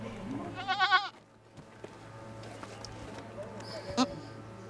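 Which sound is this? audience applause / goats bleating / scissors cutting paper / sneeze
goats bleating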